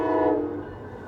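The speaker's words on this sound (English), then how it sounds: "Oh, it's an Amtrak train." An Amtrak passenger train passes close by, its horn blaring loud and sustained over a heavy rail rumble that fades slightly toward the end.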